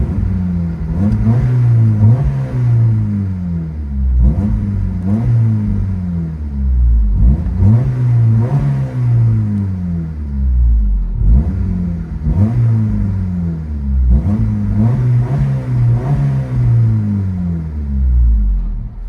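A 1999 Honda Civic with no catalytic converters and a Yonaka cat-back exhaust revs repeatedly, heard from inside the cabin, rising and falling in a steady cycle of throaty, rumbling exhaust bursts, loud and close.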